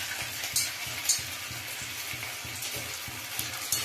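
Soybean balls coated in besan deep-frying in a wok of hot oil, a bright steady sizzle with a soft, regular bubbling pulse and occasional louder crackles.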